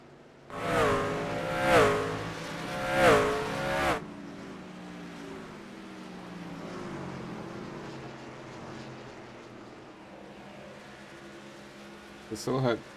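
Race trucks in a Sportsman Legacy Trucks Series event at Kern County Raceway Park drone steadily in the distance, their engine noise low and continuous, with a commentator talking over the opening seconds before the hum carries on alone.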